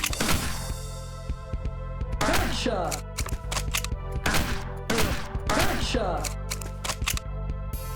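Light gun shots in the arcade video game Point Rescue, heard as quick clusters of sharp, punchy shots in a fairly steady rhythm with gaps between bursts, over a constant low hum.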